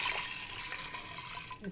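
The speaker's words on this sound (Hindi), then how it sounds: "और इसमें डालेंगे पानी।" Water pours steadily into a pot of lentils close by, giving a brief continuous splashing rush.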